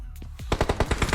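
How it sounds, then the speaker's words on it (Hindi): Rapid automatic gunfire in the battle royale game BGMI, a burst of about eight loud, evenly spaced shots that start after a few scattered shots, close and with no talk over it. "मुझे यहाँ पर गोली चलने की आवाज़ आती है"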